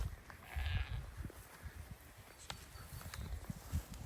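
A flock of sheep moving onto fresh grass on a small five-acre pasture bleats repeatedly at varying distances. The calls overlap over a low rumble of hooves and ground noise, with no clear talk.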